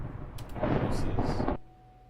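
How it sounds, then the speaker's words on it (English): A loud rumble of thunder outside during a storm, one sustained roll lasting about a second and a half before cutting off sharply into quiet. "It is very loud thunder outside."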